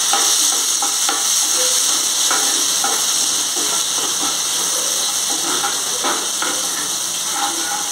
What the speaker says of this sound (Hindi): लहसुन और मिर्ची थोड़े से भून जाए